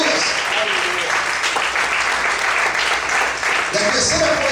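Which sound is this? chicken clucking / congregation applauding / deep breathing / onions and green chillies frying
congregation applauding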